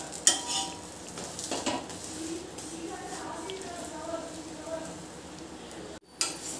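A thick soya chunks paratha cooked on a pan over medium flame, flipped and pressed down: a soft sizzle with scraping and clattering from the spatula, ending in a sharp knock, and a voice talking over it.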